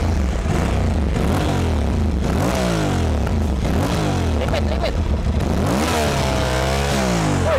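An Aprilia Tuareg 660 motorcycle engine revs repeatedly up to its soft limiter, loud and close, in a string of rising and falling blips. Voices talk faintly underneath.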